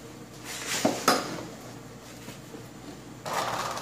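A metal oil drain pan is handled and slid under a 2000 Scotts by John Deere lawn tractor, making a couple of close scraping clanks followed by quieter shuffling.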